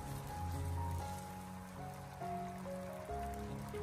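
Sauce thickened with starch comes to a boil in a wok on high heat, giving a steady, fairly faint bubbling and simmering that runs continuously with no talk.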